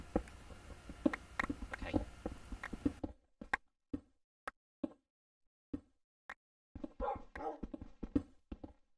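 Dogs in the Minecraft video game bark while the player explores a cave, giving short, sharp, scattered yelps between stretches of quiet, with people talking at the start and end.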